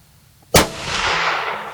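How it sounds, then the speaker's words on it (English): A single loud rifle shot cracks out during an Arkansas deer hunt, sharp and close, followed by a long rolling echo that lingers and fades slowly across the open woods. "I'm gonna shoot him, okay? Okay, squeeze that trigger."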